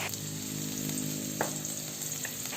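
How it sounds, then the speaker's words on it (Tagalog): Onions sauté in hot cooking oil for chicken adobo in coconut milk, with a dense, steady sizzle close up and a couple of faint stirring clicks, without talk. "pag mainit na ang mantika, ilagay na natin ang sibuyas. Halo-haluin lang natin ang sibuyas"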